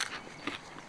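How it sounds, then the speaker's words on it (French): Close, crisp crunching as someone bites into and chews a sweet edible daylily flower, a few sharp bites spread over under a second, fairly quiet and with no talking. "Vous m'entendez certainement croquer."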